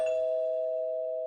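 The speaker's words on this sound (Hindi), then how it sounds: "अचानक डोरबेल की आवाज" A single electronic doorbell chime rings out clearly and sustains as a steady tone, alone in a quiet room.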